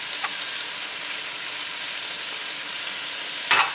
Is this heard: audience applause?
no